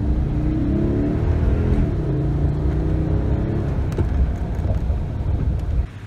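A Toyota Tundra truck with a stalling fault accelerates hard on a test drive, a loud, sustained engine roar with rising drone and wind rush heard from inside the cab, easing off slightly near the end.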